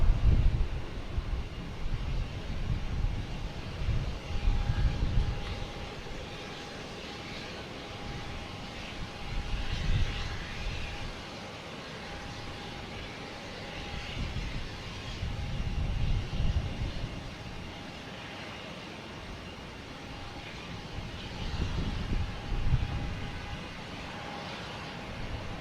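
An Etihad airliner departs Boston Logan Airport bound for Abu Dhabi, its jet engines roaring in waves, rising and fading over about 25 seconds and heard from a distance through light wind.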